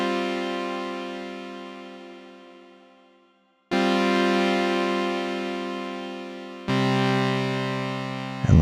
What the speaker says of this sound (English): A nice big fat reverb.